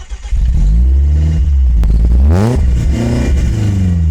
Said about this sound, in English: because the exhaust is so loud.